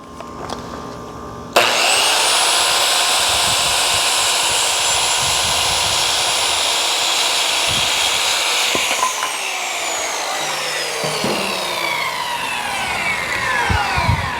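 A power saw runs loud and steady for about seven seconds, cutting wood for box crib supports. Its pitch then winds down as the blade spins to a stop, with some knocking and handling near the end.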